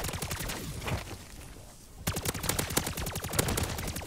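Rapid automatic weapon fire in MW3 Zombies, a dense stream of shots that dips briefly, then returns even faster and louder, continuous and close.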